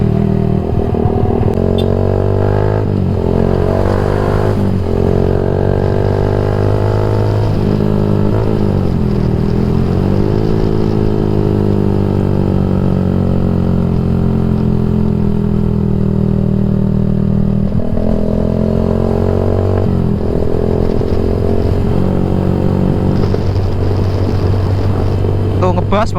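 A Yamaha MX King 150 motorcycle fitted with a UB Bpro racing exhaust rumbles loud and close, deep and bassy, with repeated revs rising and falling over a steady throbbing idle.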